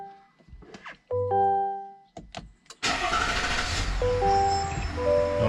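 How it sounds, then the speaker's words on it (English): A 2023 GMC Yukon XL with the 3.0 Duramax LM2 diesel cranks in a home garage, with brief starter whirs and clicks before the engine catches and settles into a steady, loud, close diesel idle with no talk over it. "So now we're gonna go ahead and start the car."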